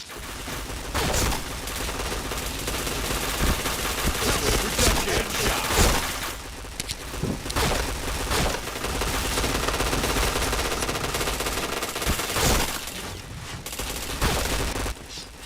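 Rapid bursts of video game gunfire crackle loudly throughout, automatic volleys packed close together with a few sharper single shots, steady and dense with no talk over them.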